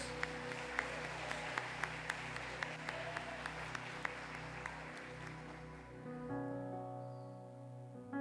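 A church congregation applauds in a steady, continuous roar of clapping under sustained organ or keyboard chords, with a few sharp louder claps standing out before the clapping thins and the music carries on alone.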